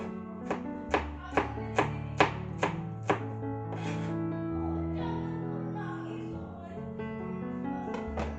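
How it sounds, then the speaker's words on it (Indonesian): A knife slices shallots thinly on a cutting board in a run of about seven crisp, evenly spaced chops, close and clear, then stops while a low hum carries on and one more tap lands near the end. "Iris tipis-tipis bawang merahnya."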